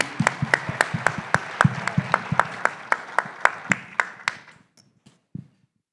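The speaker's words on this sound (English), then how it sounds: "I think you all deserve a round of applause." A small audience at a funders panel claps sparsely, about twenty distinct hand claps in a fairly even rhythm over four seconds, close and clear, then a single late clap after a pause.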